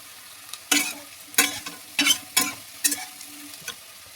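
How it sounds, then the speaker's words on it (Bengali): Onions frying with chana dal in a pan are stirred in about six sharp, rhythmic scraping strokes. A low, quiet sizzle runs underneath, and no voices are heard. "আর এদিকে আমি ডিম রান্নার জন্য ছোলার ডাল দিয়ে পেঁয়াজটা লাল লাল করে ভেজে নিচ্ছি"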